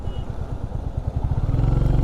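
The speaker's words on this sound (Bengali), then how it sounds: "রয়্যাল এনফিল্ড বাইক সার্ভিসিং করার পর আমি এখন আসি হচ্ছে," Royal Enfield Classic 350 motorcycle running on a road, its thumping single-cylinder exhaust pulsing steadily and growing louder and deeper toward the end, nearby and without speech.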